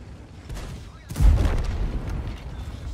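A high-explosive tank shell in World of Tanks detonates with one deep, heavy boom about a second in, then leaves a rumbling tail over faint background battle noise.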